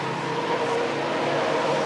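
A stock race car engine roars steadily at a 1989 race at Redwood Acres Raceway, a buzzing exhaust drone held at constant pitch, fairly close, with no talking.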